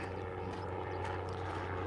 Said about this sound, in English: Helicopter going over.